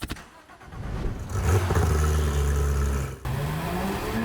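A Porsche GT3 RS fitted with a Dundon exhaust passes by, its engine note swelling loud and close with a rising, steady drone before briefly dropping off and resuming.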